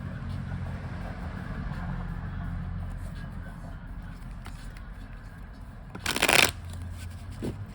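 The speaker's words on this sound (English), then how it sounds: "Going to shuffle these just a few more times." A short, crisp riffle of tarot cards being shuffled, standing out near the end over a low background hum and faint talking.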